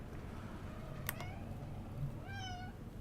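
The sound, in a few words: cat meowing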